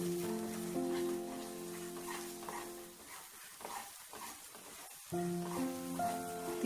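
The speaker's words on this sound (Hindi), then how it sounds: "लगातार स्टर करते रहना, भूनते रहना इसको, नीचे ना लगे" Thickened grated ginger roasted over low to medium heat in a pan while being stirred steadily gives a soft sizzle and scraping, faint and continuous, with a sustained tonal hum fading out midway and returning.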